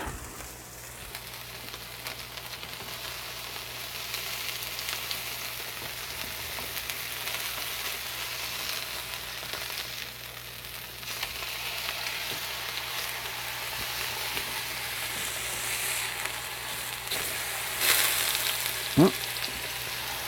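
Steak sears on a griddle for Texas-style steak on toast, a steady close sizzle hissing throughout with a brief sharp scrape near the end.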